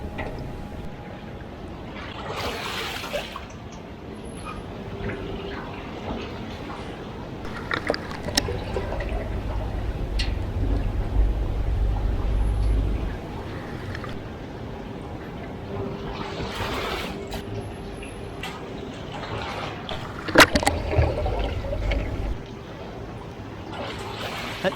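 Chrome bumper parts on a 74-year-old bumper being swilled through rinse tank water during rechroming, with broad watery sloshing and splashing bursts, a low rumbling surge near the middle and again toward the end, steady and fairly close.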